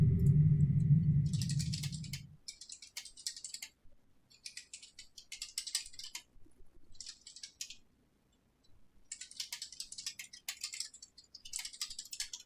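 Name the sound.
typing on a computer keyboard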